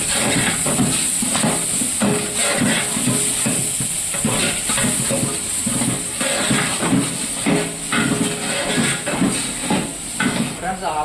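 Ginger paste frying in a pan for a kurma, a continuous loud sizzle and hiss with scraping stirs, while someone talks over it.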